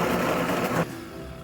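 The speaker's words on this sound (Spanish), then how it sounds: "Vamos a moler esto" Dense whirring buzz of a food processor grinding falafel mixture, steady and close for most of a second before cutting off abruptly, leaving a faint hum.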